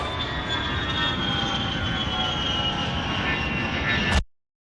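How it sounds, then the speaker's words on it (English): A jet airplane roar opens a wrestling entrance theme, a loud, steady engine rush that holds for about four seconds and then cuts off abruptly to silence. "Was that like a fighter jet or airplane playing in the beginning?"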